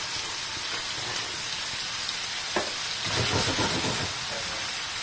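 Fish fillet seasoned with black and white pepper frying in a pan with turmeric and paprika, giving a steady close sizzling hiss throughout with a brief crackling surge in the middle.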